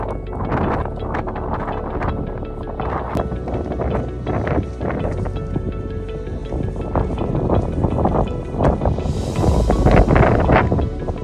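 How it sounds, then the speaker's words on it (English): Strong gusty wind buffeting the microphone on an exposed stretch of a hiking track, loud rumbling bursts and roaring swells rising toward the end. "The wind was the same as the day before"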